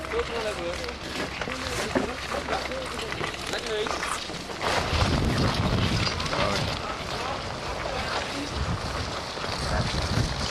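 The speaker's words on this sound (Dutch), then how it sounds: "Harde wind." Strong wind buffets the microphone outdoors during the 1997 Elfstedentocht skating tour in the Netherlands, a loud rushing roar under people talking in Dutch.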